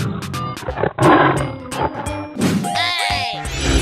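Cartoon-style lion roar heard as a short burst amid busy game sound effects and music in an animal transformation game, loud and close, with no talk over it.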